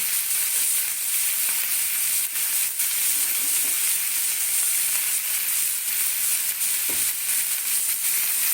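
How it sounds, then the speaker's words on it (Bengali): Food hits the oil already used for frying potatoes and fills the pan with a loud, continuous crackling sizzle, dense and close, broken only by a soft stirring scrape and with nobody speaking. "যেই তেলে আলুটা ভাজলাম আমি ওই তেলে দিচ্ছি"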